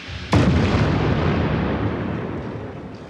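Remotely fired quarry blast set off by detonating cord: a sudden heavy boom at the start, then a long rumbling roar of rock and debris that slowly fades over several seconds.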